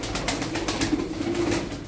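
Tumbler pigeons coo in a low, soft, continuous murmur close by, with a faint flutter of wings and no voices over it.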